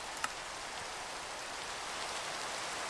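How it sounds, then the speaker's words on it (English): Rain falls steadily in the video game Minecraft, an even, close hiss of countless drops with no change in intensity and no voices. "That looks like the rain's stopping."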